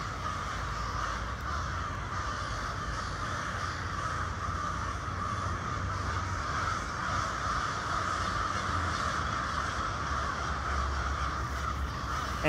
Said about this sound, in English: American crow, Corvus brachyrhynchus, fascinating bird, good bird.